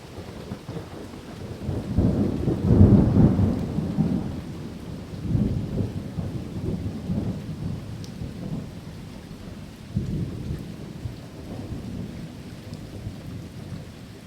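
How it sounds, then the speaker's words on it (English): Heavy rain pours down during a passing thunderstorm on a running route, with a loud rumbling thunderclap swelling early and further low rumbles rolling on beneath the steady downpour; no voices. "but then there was a huge thunderclap"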